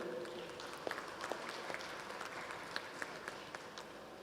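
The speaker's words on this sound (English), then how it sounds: "Can we have a round of applause for this visionary?" An audience at a sustainable apparel forum closing plenary applauds, a steady patter of many hands clapping with a few sharper nearby claps standing out, sustained throughout with no voices.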